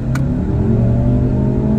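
A modified Skoda Superb with a swapped engine revs hard under acceleration, a loud, close, continuous rumbling drone that climbs steadily in pitch through the revs.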